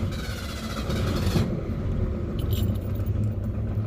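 A Foxbody with a 200 inline six and a newly fitted header, slightly heat-soaked, idles with a steady low exhaust rumble heard up close, plus a faint metallic jingle early on.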